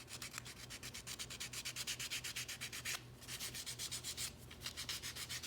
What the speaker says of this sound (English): get a piece of 220 sandpaper, and we're going to sand the back edges of it